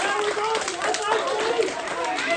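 Audience clapping at a children's library science show, a steady wash of applause running through the whole stretch with crowd noise and voices mixed in.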